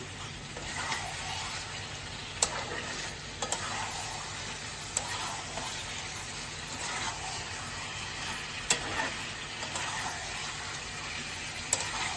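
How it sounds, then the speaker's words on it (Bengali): Fried potatoes being stirred into chicken kosha curry in a pan, a low steady sizzle with intermittent spoon scrapes and occasional sharp taps against the pan, quiet and close, no voices. "এর মধ্যে আমি আলুটা এবারে দিয়ে দেবো, ভেজে রেখেছি। আর একটু ভালো করে এর মধ্যে নাড়িয়ে নিচ্ছি।"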